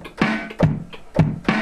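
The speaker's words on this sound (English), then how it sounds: "So this is just a simple beat, something like this." A simple hip hop drum beat plays alone, with four evenly spaced hits in under two seconds, each a punchy kick with a snare-like crack.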